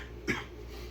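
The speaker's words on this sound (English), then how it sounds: "Here I am coughing." A single short cough, fairly faint, over a steady low background hum.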